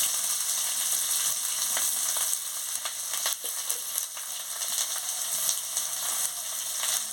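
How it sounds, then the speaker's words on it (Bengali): Chopped onion with whole cumin and dried red chili fries in hot oil, a dense continuous sizzle with crackling pops and occasional stirring scrapes, close and steady throughout with no talk. "তেল গরম হয়েছে, আমি গোটা জিরে আর শুকনো লঙ্কা দিয়ে দিচ্ছি। পেঁয়াজ কুচি দিয়ে দিচ্ছি।"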